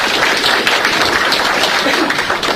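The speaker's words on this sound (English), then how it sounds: "Let's give a round of applause to Dave for putting all this together" A lecture audience gives a sustained round of applause, dense and even clapping from many hands at close range, filling the whole moment with little talk underneath.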